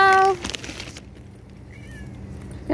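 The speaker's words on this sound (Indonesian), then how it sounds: "Tuh ada kucing nyemperin." A cat gives one short, clear meow up close. A quiet pause follows with faint background noise, and a voice starts to speak at the very end.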